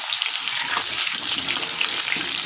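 Cut potatoes frying in hot oil in a wok for a chicken curry, producing a dense, even sizzle heard up close with faint bubbling and no talk.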